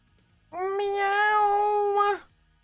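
A single drawn-out cat meow, clear and close, lasting nearly two seconds against quiet surroundings.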